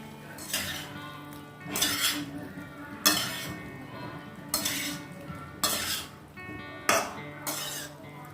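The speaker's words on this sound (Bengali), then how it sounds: "এবার এর মধ্যে আমি ভেজে রাখা আলুটা দিয়ে দেবো।" Fried potatoes being stirred into a jackfruit curry in a pan, repeated bursts of utensil scraping and clinking against the pan about once a second, over a soft sizzle, with brief talk.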